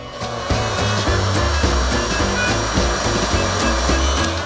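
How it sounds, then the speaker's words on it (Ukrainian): A heat gun blows hot air in a loud, steady whoosh with a low, pulsing motor hum underneath, heating heat-shrink tubing on a phone cable. "потрібно лише підігріти її звичайним або будівельним феном"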